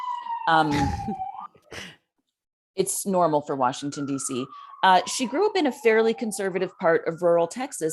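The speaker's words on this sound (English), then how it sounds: "I'm sorry for the noise if you can hear the sirens outside." A siren wails steadily in the distance beneath a person talking nearby, its faint rising and falling tone running behind the speech.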